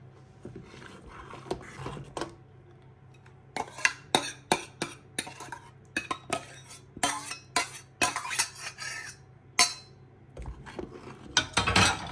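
A metal spoon clinks and scrapes against a pot while Gujarati dal is stirred, with irregular bursts of clatter over a low steady hum.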